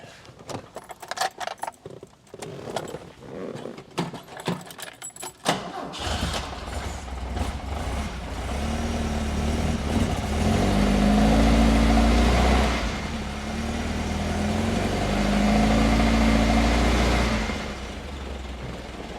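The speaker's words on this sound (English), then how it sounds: "Okay, now it should fire up." Keys jangle close by before an Alfa Romeo Spider engine cranks and fires, then settles into a loud, slightly rough cold idle with rising and falling revs; a voice speaks briefly.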